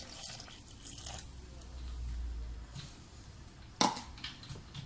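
Milk is poured into donut dough in a kitchen, making a soft, faint liquid trickle with small drips and a brief clink near the end, close by and low in level.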